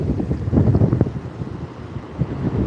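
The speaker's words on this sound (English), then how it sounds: "that water, it sounds like the surf's getting" Surf on a Florida beach, waves washing in with gusty rumbling swells that rise early and ease off, heard outdoors under wind buffeting on the microphone.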